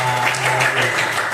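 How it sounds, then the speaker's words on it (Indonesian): Students in a classroom clap together in a short, loud burst of applause, with a low steady hum running under the first part of the clapping. "Beri tepuk tangan untuk kelas ini."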